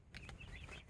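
Chickens in a big open hen house and chicken run give off quiet, scattered clucks and calls over steady low background noise, with no talking.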